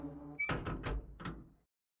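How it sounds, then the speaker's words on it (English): A door opening in the visual novel Chaos;Head Noah: a low hum, then a few clunky thuds and rattles of the latch and panel over about a second, close and fairly loud, before falling silent. "So I stood there at the sound of the door opening, which told me that the demon girl had left."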